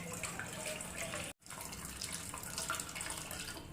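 Cooking water being poured off boiled dal, a steady, quiet splashing stream that breaks off briefly and then resumes.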